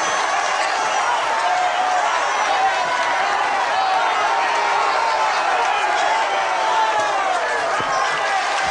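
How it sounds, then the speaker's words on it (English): A dense, loud crowd at a British wrestling match roars and cheers continuously, a wall of excited voices with no pause, echoing as in a large arena. "And the crowd mad, going mad here,"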